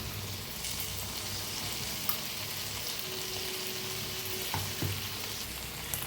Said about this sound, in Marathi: आता जो मसाला बनवून घेतला ते टाकूया ह्याच्यात